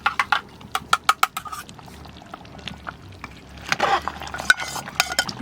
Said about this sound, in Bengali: এবার টক দইটা দেবো